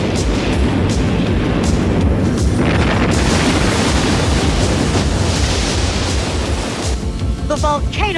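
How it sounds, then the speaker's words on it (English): A cartoon volcano collapses in a loud, sustained rumbling roar with crashing debris, steady and dense for several seconds before thinning at the end. "The volcano collapsed."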